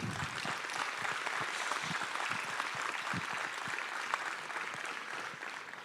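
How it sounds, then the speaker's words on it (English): An audience at the Canadian County Junior Livestock Barrow Show applauds the kids, a sustained crowd of clapping hands that fades slightly at the end, with no talking. "Please give these kids a nice round of applause."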